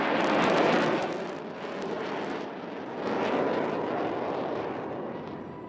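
Indian Air Force military jet performing a red eye turn at the Chennai air show over Marina Beach, a loud, sustained roaring rumble that swells, dips and swells again as the aircraft passes at a distance.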